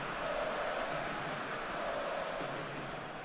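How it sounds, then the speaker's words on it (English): Dense, steady stadium crowd roar from an eFootball 2024 match on a clear evening, a loud continuous wash of massed voices holding at an even level throughout with no distinct individual sounds. "this place is living up to its reputation as one of the noisiest corners of the footballing world"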